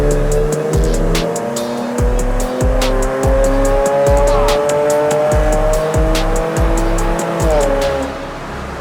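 A BMW 335i engine revs hard through repeated rising sweeps on a dyno, each pull climbing then dropping sharply in a regular rhythm, loud and close with no speech over it.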